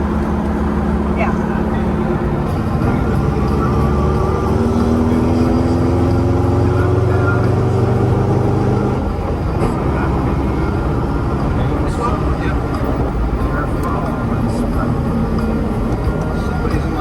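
A 1972 Volkswagen Super Beetle driven on a road by a new learner, heard from inside as a loud, steady engine and road drone, with the engine note rising and then shifting around midway before settling again.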